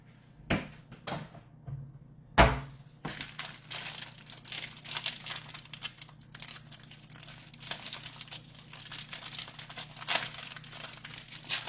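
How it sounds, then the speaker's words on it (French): Parchment paper crinkles and rustles close up as it is laid in the bottom of a container for homemade wontons, a few sharp crackles at first, then steady crumpling handling noise. "Je vais mettre un papier parchemin dans le fond"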